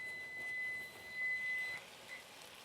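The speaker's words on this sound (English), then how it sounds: "there's my timer going off" A kitchen timer sounds a thin, steady high electronic tone that holds for over a second and then stops, with a brief faint blip afterward, heard quietly over low room noise.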